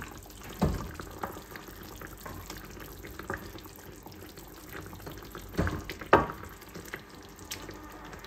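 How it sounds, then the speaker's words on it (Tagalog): Lechon paksiw with banana blossoms bubbles in a pot, with a soft simmering wash broken by a few sharp clinks and scrapes as a utensil stirs the pork, close and moderately loud. "Ngayon lang natin kumulo na kumulo. Haluin natin."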